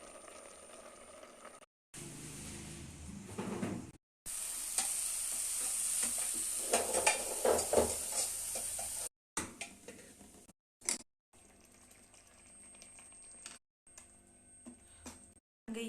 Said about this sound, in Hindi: और मैंने पाव भाजी छोंक दी है, इसमें पाव भाजी मसाला डाल दिया